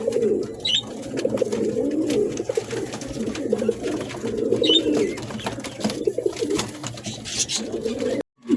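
A running pair of Giribaz pigeons on a farm cooing continuously, close and fairly loud, with repeated throaty coo phrases and a brief cut near the end.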